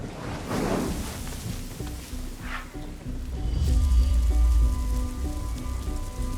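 Rain falls steadily on the ground in a wild outdoor setting, a soft, even patter with scattered louder drops, then swells into a heavier low rush about halfway through.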